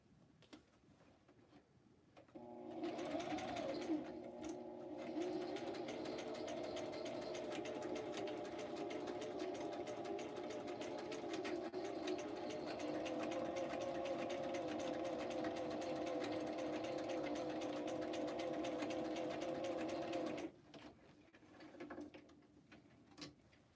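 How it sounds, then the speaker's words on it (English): A sewing machine stitching through a small paper file folder, a close, steady mechanical whir with a rapid needle chatter running for about eighteen seconds, starting and stopping abruptly with quiet before and after. "Let me sew that"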